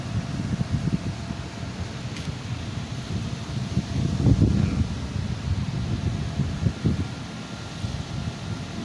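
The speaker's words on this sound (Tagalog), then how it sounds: "Sabayan pa ng malakas na hangin." Strong wind roars steadily against the microphone during a dust storm at SM Mall of Asia, a continuous low buffeting rumble with occasional gusts and no voices.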